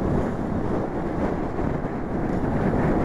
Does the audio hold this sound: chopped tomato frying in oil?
no